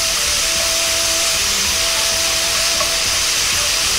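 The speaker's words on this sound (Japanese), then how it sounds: "今回は分かりやすいように弱火にして炒めます。" Pork belly spread across a frying pan sizzles over low heat, a dense, even hiss that holds steady and fairly loud throughout, with faint faint tonal hum beneath and no talking.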